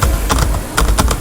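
Quick bursts of typing on a computer keyboard while entering text in a CSS and HTML tutorial, with clustered key clicks in an uneven rhythm, close and clear, with no talking.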